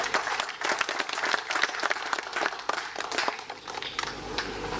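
An audience gives a round of applause for Governor Olayemi Kabuso at a televised event, with steady, dense clapping that holds at a fairly loud level throughout.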